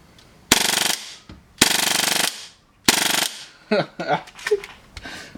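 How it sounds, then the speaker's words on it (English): A GSB Dragon 6-inch full-auto Tokyo Marui Hi-Capa airsoft pistol is dry fired in three short, loud full-auto bursts of rapid mechanical clatter, followed by softer handling clicks and rustles. "Let's just dry fire to make sure that I am, you know."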